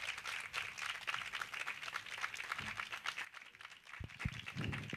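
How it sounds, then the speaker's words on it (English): Faint audience applause after a poetry performance, a steady, distant patter of many hands clapping that continues without pause. "Keep that applause going."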